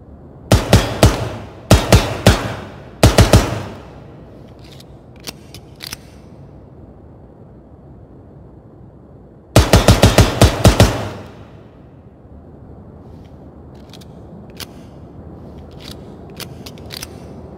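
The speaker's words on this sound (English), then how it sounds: "So the first one that we're going to be posting here is the PMM pistol, or Makarov, however you want to call it" A PMM Makarov pistol fires in the Ground Branch game. Loud, sharp shots come in quick clusters: three short groups early, then a longer run later, with faint clicks and quiet stretches between.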